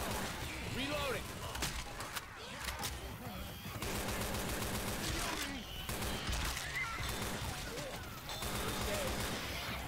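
Dense, nearly continuous automatic gunfire from Left 4 Dead 2 on the Dark Carnival campaign, loud rapid bursts with brief pauses and crashes, with a person talking over the shooting.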